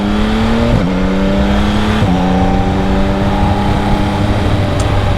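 A 2025 Yamaha MT-09 SP triple-cylinder motorcycle pulls loud and close through its gears in street mode, a smooth rising engine tone that drops with each gear change, two shifts in quick succession, then settles into a steady drone.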